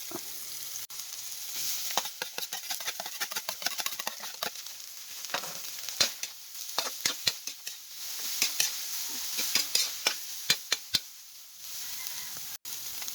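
Fish hits a hot frying pan with oil and sizzles steadily while it is stirred now and then, giving crackling pops throughout. The frying is moderately loud with no talking.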